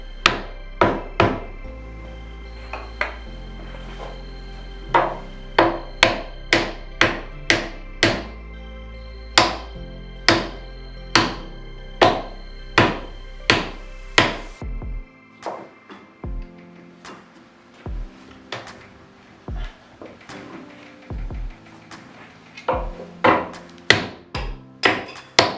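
Sharp wooden knocks as glued chair legs are tapped down into their holes, a fast regular series of hits at first, then slower, scattered taps close by with no talk.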